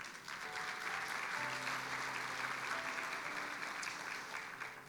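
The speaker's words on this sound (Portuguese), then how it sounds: "Dê um aplauso a ele." A church congregation claps together in sustained applause for a few seconds, with faint sustained tones ringing underneath.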